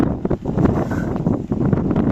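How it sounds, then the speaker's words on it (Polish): Heavy wind batters the microphone with a continuous low rumble and pulsing gusts, loud and close throughout. "Strasznie mocny wiatr dzisiaj jest, no wieje strasznie mocno"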